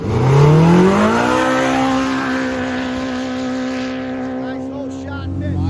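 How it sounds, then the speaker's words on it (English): The Polaris Red Bull UTV, driven by Mitch Guthrie Jr., revs hard at the start of a desert qualifying run, its engine pitch climbing quickly and then holding a loud steady roar that fades toward the end. "It is the Polaris Red Bull machine looking for a good qualifying run."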